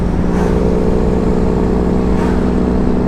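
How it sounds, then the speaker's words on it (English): A loud, rumbling Foden truck with a Cummins engine and straight-pipe exhaust idles with a steady, throaty exhaust drone throughout, close up and constant. "we can have a little look at the sounds of the Foden with the new straight pipe on"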